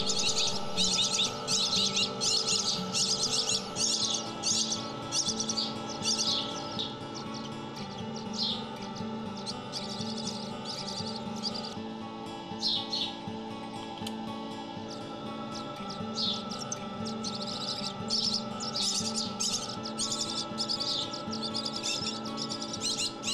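Naked, helpless baby songbirds such as swallows, robins and sparrows chirp constantly at a wildlife rescue, a dense chorus of high, rapid peeps over a steady hum, close and continuous with no talking.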